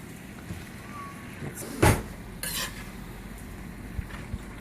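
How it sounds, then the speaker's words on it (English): Penne pasta with spinach and mushrooms being stirred in a dish, a couple of brief scraping, clattering bursts over a quiet background, close by. "I'm going to give a stir."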